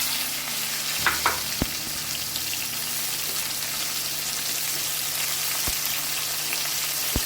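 Karonda fruits fry in hot mustard oil with garlic and a dried red chilli, giving a steady, close sizzle with a few clinks and stirring taps.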